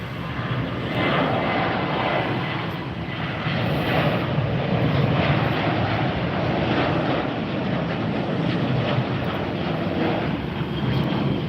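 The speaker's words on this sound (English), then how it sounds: "Here goes our Southwest flight." A Southwest Airlines jet bound for Fort Lauderdale takes off at Tampa airport, its engines a loud, sustained roar that swells slightly midway and carries steadily throughout, with no talking.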